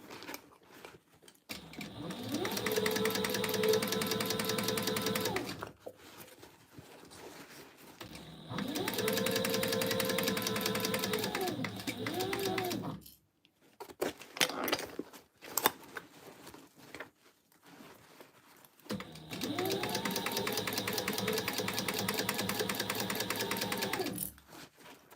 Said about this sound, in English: So we're just gonna stitch this all the way around.